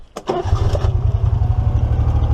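An EZ-GO ST 4x4 golf cart's Honda engine cranks briefly, then catches and settles into a steady, rumbling idle close by.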